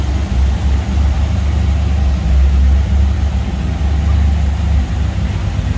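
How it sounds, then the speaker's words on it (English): A 1959 Ford Fairlane 500 Galaxie Town Sedan engine runs steadily with a deep, even rumble, loud and close, no talking. "Smooth running engine. Sounds good, looks good."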